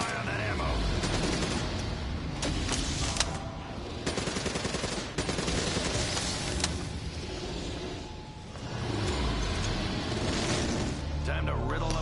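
Video game gunfire, with dense rapid bursts of shots and booming impacts running almost continuously under game dialogue.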